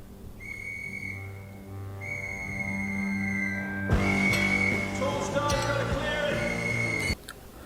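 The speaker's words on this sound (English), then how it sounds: "So she actually did blow her whistle." A whistle is blown in two long, steady shrill blasts, then a third blast merges into a burst of noisy clatter and commotion.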